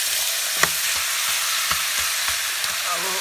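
Chicken curry frying over an open fire in a Nepali village kitchen, a steady loud sizzle with occasional sharp pops and crackles throughout.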